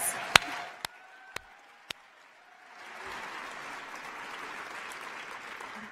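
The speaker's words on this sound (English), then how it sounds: "So please applaud our heroes." An audience applauding teachers at an education prize event: a few sharp isolated claps at first, then a swell of steady, moderately distant applause from the crowd that continues to the end.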